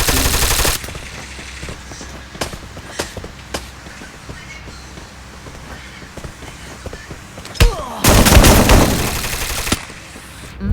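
Bursts of automatic gunfire from a 4v4 ranked shooter match, with a sharp burst at the start, scattered single shots, then a long dense volley near the end, mostly alone without talk.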